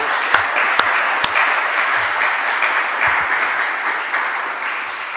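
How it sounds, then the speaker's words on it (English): Audience at a seminar on Czech–U.S. strategic relations applauds steadily, a dense even wash of clapping with a few sharper individual claps near the start, loud and continuous throughout. "applause."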